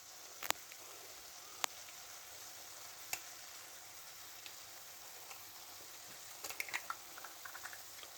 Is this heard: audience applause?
no